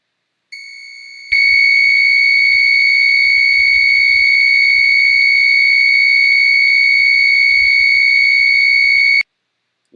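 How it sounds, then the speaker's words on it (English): An HM II heart pump controller sounds its hazard alarm, a loud, piercing, steady electronic tone that holds for about eight seconds, then cuts off abruptly, with faint low rumble beneath. "Now we will look at some hazard alarms."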